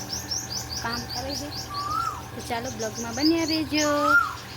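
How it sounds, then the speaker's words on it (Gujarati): An Asian koel calls during morning rain, its rising whistled notes repeated a few times at moderate distance, partly under a person talking close by. "મસ્ત મજાની કોયલ બોલે છે ને વરસાદ"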